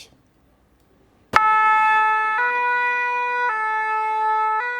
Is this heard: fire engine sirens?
yes